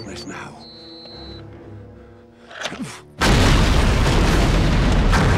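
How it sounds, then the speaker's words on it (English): A large film explosion destroys a windmill in an Animal Farm adaptation, starting suddenly midway as a loud, sustained roaring blast after quieter tonal music and a brief thud. "Damn, that explosion."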